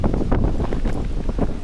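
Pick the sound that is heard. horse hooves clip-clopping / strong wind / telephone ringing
strong wind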